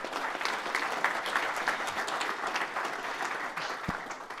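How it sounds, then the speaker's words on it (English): After a business presentation, the audience gives a big round of applause: a dense, continuous wash of many hands clapping at an even level from start to finish. "Big round of applause."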